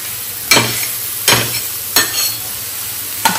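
Eggs fry in a pan on a stove, a constant sizzle broken by four sharp scraping stirs spaced about a second apart, close and loud with no speech.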